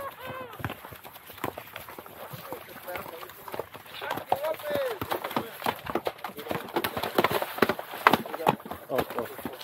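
About thirty riders on horseback move along a trail in rural Jalisco, hooves clopping in a busy, irregular rhythm close by while people talk and call out over it.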